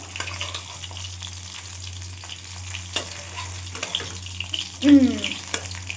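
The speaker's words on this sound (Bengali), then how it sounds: "মাছ ভাজা হচ্ছে মাছটা অনেকটা ভাজা হয়ে গেছে" Pabda fish frying in oil in a pan, a steady close sizzle with occasional louder bursts and spatters, without talk.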